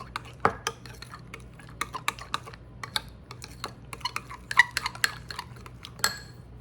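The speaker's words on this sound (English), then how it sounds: "Stir this up." A spoon stirs thick, creamy horseradish sauce in a bowl, giving a run of light clinks and scrapes with an uneven rhythm. It sounds close and fairly quiet, with no talking.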